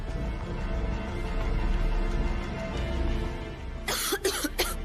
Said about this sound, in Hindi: तुझे भी खांसी आ रही